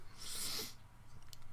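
One sharp, loud human sneeze bursts out near the mic, then fades into quiet room tone.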